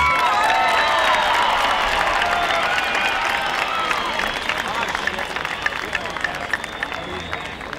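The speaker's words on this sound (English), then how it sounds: "Let's give President Reagan another great round and cheer" A political rally crowd in Ogden, Utah applauds and cheers for President Reagan, dense sustained clapping with shouts and whistles, loud and close, slowly tapering.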